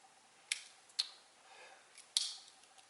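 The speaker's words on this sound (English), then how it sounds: "the famous scissors" Small scissors on a Victorinox Swiss Army Climber knife snap and click three times, sharp close metallic ticks spaced apart over a quiet background.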